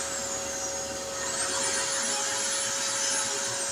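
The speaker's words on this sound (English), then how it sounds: "Turn that compressor on and off again." A compressor hums steadily while powered by a 6000-watt inverter, a constant close whine with a high tone that rises slightly partway through, heard alone without talk.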